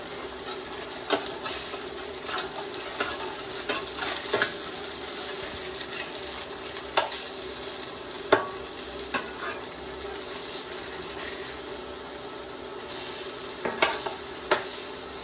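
Karimeen (pearl spot fish) sizzles quietly in a pan, a soft steady hiss broken by occasional sharp clicks and taps, no talking.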